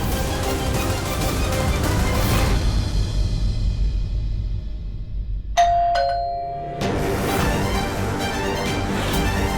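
A two-note doorbell chime rings once, clear and close, cutting through a steady wash of background noise that briefly drops away.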